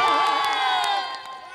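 A crowd at a temple fair in Gorkha, Nepal, gathered for a dohori performance with panche baja, cheers and whoops loudly and continuously, with some tonal music ringing through, for about a second and a half.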